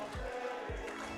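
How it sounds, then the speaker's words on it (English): Crowd chanting at a high school League of Legends grand finals between Temple City and Wootton, a steady, rhythmic roar of many voices with two low booming pulses, heard distantly behind a commentator's mic. "You can hear the chants from the crowd coming out behind me."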